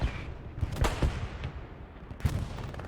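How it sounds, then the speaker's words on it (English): Explosions and gunfire in the World War II shooter game Hell Let Loose: a string of heavy booms and sharp blasts over a constant rumble of battle, loud and dense. "more explosions."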